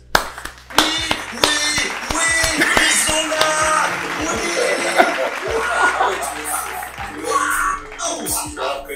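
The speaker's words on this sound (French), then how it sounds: "nous on a applaudi quand même" During a Team Dunkast versus Les Sales Tips game show, scattered close claps from a few people break out amid chuckles, laughter and lively chatter, with a couple of sharp louder claps standing out.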